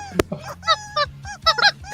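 Squeezed rubber chicken toy honking in a wrestling arena setting, a sharp burst followed by several loud, squawking, goose-like squeals in uneven bursts close by.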